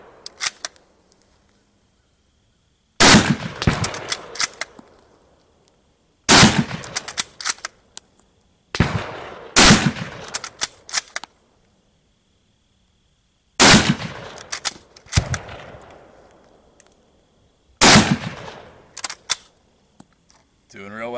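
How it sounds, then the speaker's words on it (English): Japanese Type 99 Arisaka rifle in 7.7mm firing at pumpkin targets downrange: six loud, sharp shots spaced a few seconds apart, each followed by bolt-cycling clatter, with near silence between. "we've got our pumpkin targets downrange"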